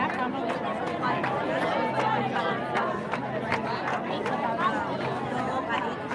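Dense crowd chatter fills a packed outdoor celebration at Hostage Square, a steady, close wash of many overlapping voices with scattered louder calls and no pauses.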